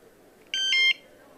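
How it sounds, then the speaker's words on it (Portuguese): A portable gas detector's alarm gives a short, loud electronic beep of under half a second, a tonal two-part chirp set against a quiet background. "Tem o alarme sonoro e tem o de vibração."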